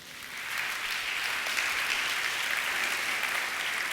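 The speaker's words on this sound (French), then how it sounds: "Acclamons le Seigneur." Church congregation applauding at a Sunday service, loud sustained clapping from a crowd that swells in the first half second and holds steady, no talking.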